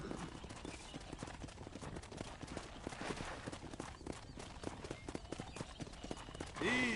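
Horse hooves clip-clopping in the Western video game Red Dead Redemption, a continuous trotting rhythm of many quick hoofbeats at moderate distance, with a brief voice near the end.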